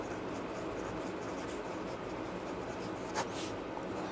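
Pen strokes on paper as a maths solution is written out, a soft continuous scratching at low level with one brief louder stroke near the end.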